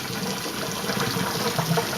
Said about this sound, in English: I kind of pour outside the colander first so some of the gunky can flow out